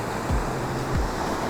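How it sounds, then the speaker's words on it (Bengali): Sea waves wash and break against rocks at Shankarpur beach near Digha, a broad steady roar with two heavier surges, wind rumbling over the microphone. "ঢেউগুলো এসে দেখুন পাথরে আছড়ে পড়ে"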